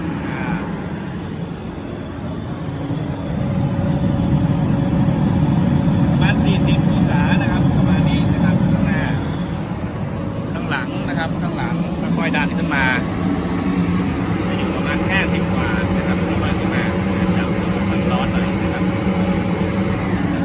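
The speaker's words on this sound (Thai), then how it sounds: "จะลองเร่งเพิ่มขึ้นอีกนะครับเร่งวาล์วแก๊สสีทองนะครับ" A used paddy rice dryer's gas burner roars steadily and loudly, the rumble swelling as the brass gas valve is opened a little at a time, with someone talking over the noise.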